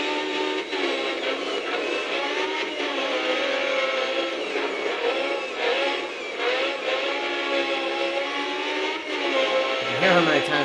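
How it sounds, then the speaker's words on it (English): A race car engine in Grid Autosport whines steadily at high revs with repeated throttle blips, loud and continuous, with a voice talking over it. "You can hear how many times I'm having to throttle this engine."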